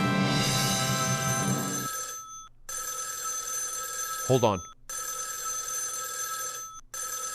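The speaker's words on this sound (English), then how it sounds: "You are listening to the world's fastest phone call ring." A telephone rings loudly and close up in a live studio setting, a bright trilling bell that repeats in bursts with short gaps, while someone speaks briefly over it.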